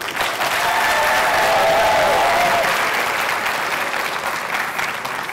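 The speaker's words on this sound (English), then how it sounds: "Can I please get a round of applause?" A crowd at a graduation celebration for Somali students in Edmonton bursts into loud applause that swells at once, holds strong, then slowly thins out.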